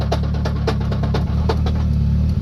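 Repeated knocking from a Buschwacker Ultimate Ratio 5-speed transmission with the clutch pedal out and the car in neutral, roughly four to five knocks per second over a loud, steady engine idle.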